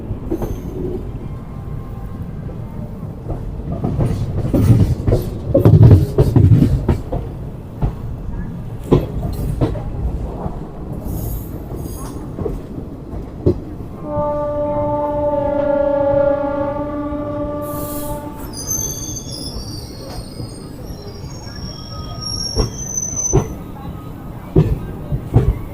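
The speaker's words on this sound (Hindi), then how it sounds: "और इस सामने कोई ट्रेन प्लेटफॉर्म नंबर 1 से डिपार्चर ले रही है।" A train pulls out from platform 1 at a busy Indian railway station on the Moradabad–Ramnagar line, its wheels rumbling and clattering steadily amid crowd noise. A sustained tonal hum or horn rises midway, followed by high squealing tones near the end.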